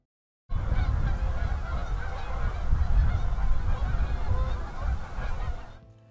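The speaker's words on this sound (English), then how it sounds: "There's some geese out there," A flock of geese honks far off, a steady, dense chorus of overlapping calls that swells and carries on for several seconds before cutting off, with no talking over it.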